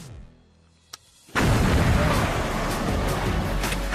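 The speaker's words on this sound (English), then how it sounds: "how far the effects of this explosion will travel" A large high-explosive blast in a World War I demonstration lands as a sudden loud boom after a quiet lead-in with a faint click, then a sustained roaring rumble of debris and shockwave.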